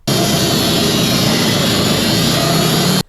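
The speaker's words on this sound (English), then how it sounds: "You're going to hear the engine bog down real quick." A loud, steady Wood-Mizer sawmill engine roar holds for about three seconds while cutting a frozen hedge log, then cuts off abruptly, its pitch staying level without a clear drop.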